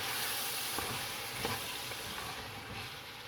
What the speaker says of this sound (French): Alors, nous allons légèrement mélanger.